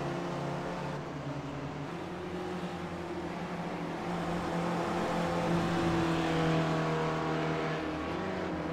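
Virtual SRF race cars at New Jersey Motorsports Park's Thunderbolt course in a racing video game, with a steady buzzing engine drone that rises and swells as a car approaches, loud and continuous with no talk.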